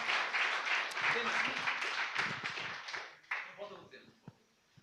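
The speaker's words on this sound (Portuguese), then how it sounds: "Quem pode aplaudir a Deus pela sua graça?" A church congregation claps for God during a Portuguese-language service, the applause dense at first under speaking voices, then thinning to scattered claps near the end.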